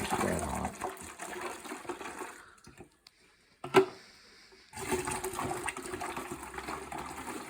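Hot ginger turmeric tea is poured into a container in a kitchen, with a loud, gushing flow that breaks for a quiet moment and a clink before pouring resumes steadily.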